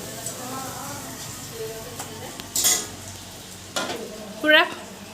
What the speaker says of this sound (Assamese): সেয়া লুচি ভাজি আছোঁ